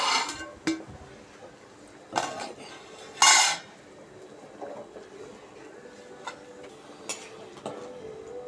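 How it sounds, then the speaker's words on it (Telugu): A metal lid clanks down onto a cooking pot of prasadam in a home kitchen, one sharp loud clatter standing out among scattered softer clinks of utensils and pots. "మూత పెట్టుకుంటాం, చెక్ చేద్దామండి ఎంతవరకు అయింది అనేది."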